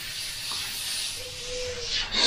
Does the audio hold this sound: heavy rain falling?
no